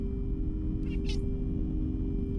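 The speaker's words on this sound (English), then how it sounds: "I don't know if you could hear her tiny little meow." A small cat gives one or two faint, high meows, brief and soft, over a steady low hum in the background.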